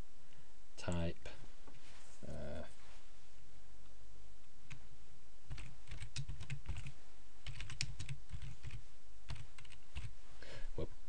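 Typing on a computer keyboard while editing text for a website widget, with bursts of close clicking keystrokes, short pauses between runs, and talk now and then.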